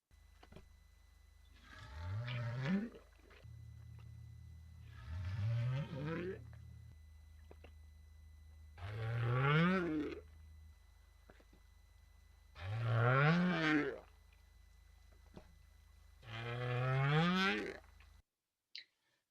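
Three rising North Atlantic right whale upcalls, each a faint, distant underwater tonal sweep repeated at regular intervals over a low background hum.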